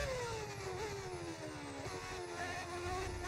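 A modded engine sound from an F1 25 racing game: a faint, steady high-pitched whine that rises and falls gently as the car runs a lap, with no voices.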